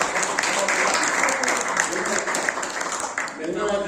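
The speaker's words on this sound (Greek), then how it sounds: "Ένα χειροκρότημα για τις εκδόσεις Κολυδάρη" An audience at a Greek book presentation applauds a book publisher, with dense, steady clapping held at an even level throughout. Some voices mix in with the applause.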